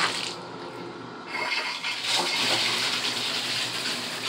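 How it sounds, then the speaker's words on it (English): Water gushes from a newly installed Danco universal tub spout into a bathtub, a steady close splashing rush that grows fuller partway through and continues without pause. "you see a lot of water is coming, and no leaking this time"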